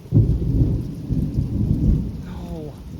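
Thunderstorm on a summer morning: low rolling thunder rumbles continuously under steady rain, fairly close and loud, fading slightly toward the end.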